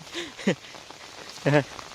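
Steady soft rain patter in the background while someone speaks briefly over it.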